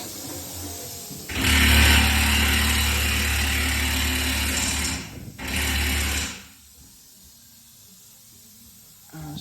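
A power tool unbolts a cone, giving a loud close whirring buzz that runs for several seconds, stops briefly, then returns in a shorter burst before quiet.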